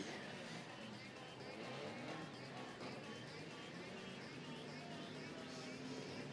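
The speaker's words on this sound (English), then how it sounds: "the cars are still rolling past me" Demolition derby cars roll past in the pit area at a clay track in Murray Bridge, a faint, steady rumble of engines and tyres with a washy noise bed.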